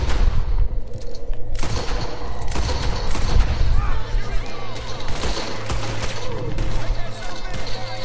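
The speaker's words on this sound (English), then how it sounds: "Stop shooting me and I'll stop shooting the law." Dense gunfire fills a gunfight in the video game Red Dead Redemption 2, with rapid overlapping shots and booms throughout and speech mixed in under the shooting.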